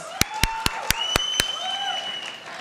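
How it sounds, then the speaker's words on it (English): Audience applause at a school farewell event, a steady wash of clapping with a few sharp, loud claps standing out near the start, moderately distant in a hall. "Everyone, please give him a huge round of applause."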